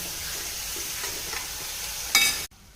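Onions with salt fry in a pan, a steady close sizzle with faint stirring scrapes, then a brief louder clatter before the sound cuts off.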